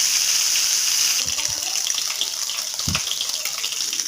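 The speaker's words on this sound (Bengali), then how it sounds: "এখানে আমি মাছটাকে প্রথমে ভেজে নিচ্ছি।" Snakehead (shol) fish frying in a pan, a steady close hiss and sizzle of hot oil running throughout with a few low bumps and pops, no voices.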